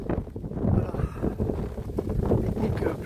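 Strong wind on an outdoor hike blasts across the microphone as a steady, loud low rumble with gusty swells, continuing throughout without a break.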